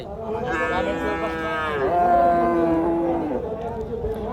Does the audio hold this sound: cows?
yes